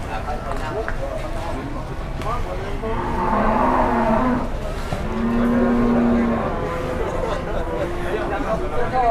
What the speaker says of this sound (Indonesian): Sapi jumbonya 7 kintal ya.